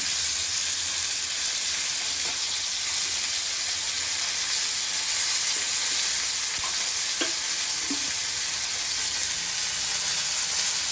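Bombay duck (bombil) fish frying uncovered in hot oil, a steady broad sizzle throughout with a few faint clicks, no talk.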